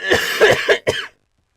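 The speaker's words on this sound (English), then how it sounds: "he's like coughing through most of the game" A short burst of four harsh coughs from a video game character close up, the last one after a brief pause, then silence.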